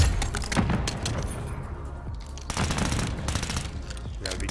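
Rapid gunfire in a shooter video game rattles out in loud, dense bursts, dropping briefly in the middle before picking back up, with no talk over it.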